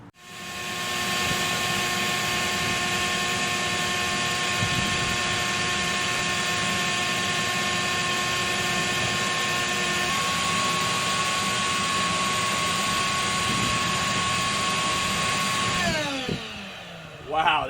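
An electric motor, an inductive load, runs off a 3000-watt Mango Power E portable power station with its cooling fan going, giving a steady, even hum and whine that holds for about sixteen seconds before spinning down.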